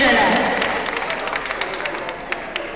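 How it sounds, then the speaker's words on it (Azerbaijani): Audience applause at a spring concert, a steady spread of clapping from a crowd that slowly thins, with a voice speaking over it at the start. "Alqış gəlsin gecələrimiz üçün."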